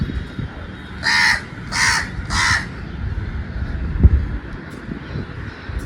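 Three harsh caws from a crow ring out in a quick, evenly spaced series over gusty wind noise, then only the wind remains.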